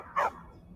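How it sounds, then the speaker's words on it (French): A single short, sharp yap from a puppy in the video game Skyrim, heard alone and fairly close against a quiet background. "ce chiot insupportable"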